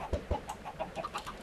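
Video game chickens cluck in a quick run of short, bright calls, several close together at a steady rhythm, with no talk over them.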